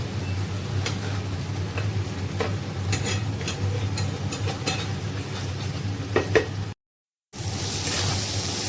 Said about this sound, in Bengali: আর অল্প একটুখানি চিংড়ি মাছ দিয়ে দিলাম, যেটা ভেজে নিচ্ছি